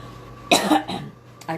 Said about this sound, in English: it's just a dry cough and a tickle in my throat